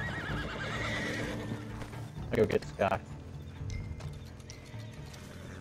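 A horse in a video game whinnies loudly twice amid clip-clopping hooves, close and sharp over a low game ambience, while a player talks over the start of the sounds.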